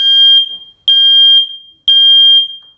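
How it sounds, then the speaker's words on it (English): A Google Nest Protect smart smoke alarm sounds during its self-test with three loud, piercing, shrill beeps, each about half a second long and evenly spaced, heard up close with no talking. "The alarm will sound. The alarm is loud."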